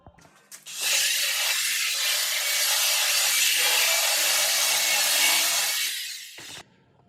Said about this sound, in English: now you want to flip it up and you want to belt sand this smooth over here